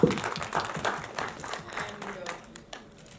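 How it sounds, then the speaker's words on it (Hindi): An audience at a film trailer launch event breaks into applause, loud at first and then fading, with voices talking over the clapping. "जोरदार ताली हो जाए for this cutie, please."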